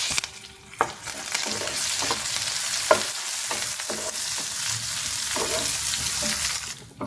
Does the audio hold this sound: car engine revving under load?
no